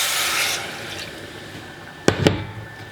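Water is poured into a bowl of caster sugar and stirred, starting with a steady rushing pour that fades. Near the end come two sharp close clicks or scrapes from a spoon against the bowl, and nobody speaks.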